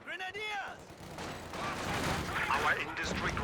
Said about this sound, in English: a lot of rifle nades from iiBasti so far.